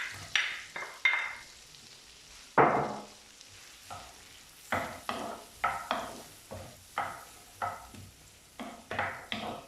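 Mushrooms sautéing in a pan, with repeated bursts of sizzle and stirring scrapes at an uneven rhythm, close and fairly quiet, with pauses between strokes.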